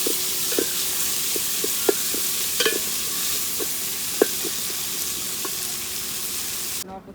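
Marinated mutton fries in a pan over an open-air wood fire, a steady close sizzle punctuated by sharp pops and the scrape of stirring, cut off abruptly at the end.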